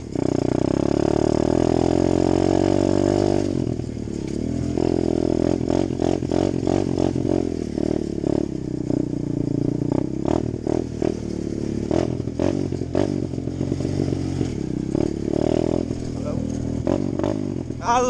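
An Apollo 125cc four-stroke dirt bike engine climbs a steep hill up close. A loud rising drone gives way to throttle blips and a choppy, revving clatter throughout.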